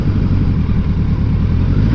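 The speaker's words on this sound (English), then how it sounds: "I fucking hate Dublin traffic on a Friday evening." Dublin traffic on a Friday evening heard from a big motorbike, a loud continuous low engine drone with steady rumble and throb close by, no voices.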